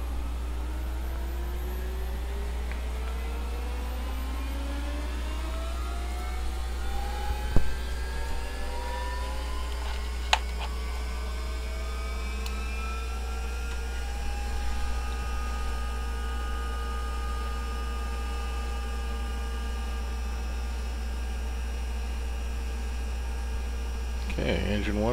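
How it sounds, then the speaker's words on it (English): Engine one of a Bell 412 helicopter starting up in X-Plane 11, a turbine whine rising steadily in pitch and settling into a constant tone over a loud low hum, with occasional clicks and no talking. "So let's start engine one."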